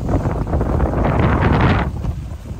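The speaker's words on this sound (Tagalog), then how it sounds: "sobrang lakas ng hangin" Loud, roaring wind buffets the microphone in a steady rush, dropping off slightly near the end.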